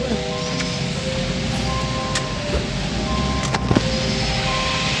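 A car passing close by on a street, a steady engine rumble with tonal whines and a few sharp clicks and rattles, nobody talking.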